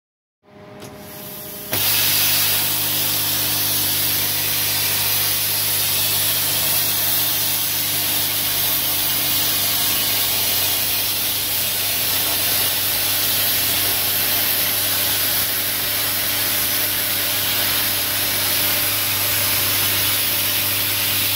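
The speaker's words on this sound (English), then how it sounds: "it's time for a test cut with the new plasma cutter and the new adapter now." Plasma cutter making a test cut with a new adapter in a workshop: a loud, steady, broad hiss starts abruptly and holds unbroken for about twenty seconds, close up.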